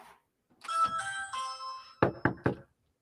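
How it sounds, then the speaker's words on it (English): At a front door, a doorbell sounds a clear two-tone chime, followed by three sharp, evenly spaced knocks, all close and distinct against near silence. "no one was home when I rang the doorbell this afternoon"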